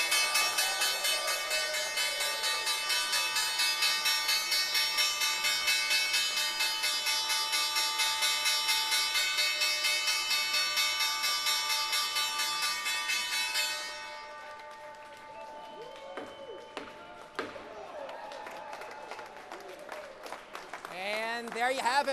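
The New York Stock Exchange closing bell rings as a steady, loud electric tone for about fourteen seconds, then cuts off. Applause and scattered voices follow on the trading floor.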